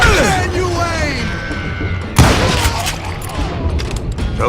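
Gunfire in Call of Juarez: Gunslinger, with a sharp, loud shot or impact partway through and more shooting after it, heard over game voices and effects.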